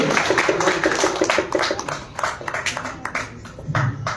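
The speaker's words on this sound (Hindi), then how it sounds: "तालियां सबके लिए।" Brief, scattered applause rises from the audience at a Hindi poetry recital and book launch, a few uneven bursts of hand claps close by that thin out and fade.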